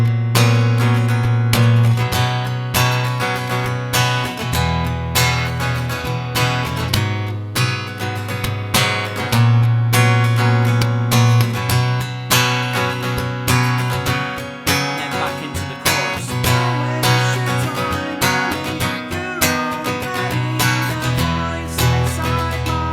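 Looped guitar chord progression of a song playing steadily and loudly throughout, layered with a low bass line and rhythmic strumming, no voices.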